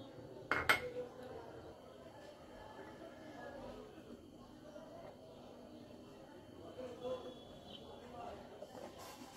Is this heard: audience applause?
no